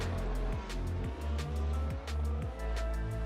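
Racing cars roaring past on a track in a video game race at the Brazil circuit, a continuous loud engine drone with several quick pass-bys and pitch drops, no voices.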